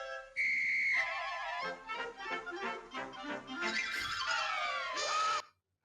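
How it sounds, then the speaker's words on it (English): A shrill cartoon whistle sounds over busy, bouncy orchestral music, ending in a sliding squeal before cutting to silence. "Oh, he's got the whistle."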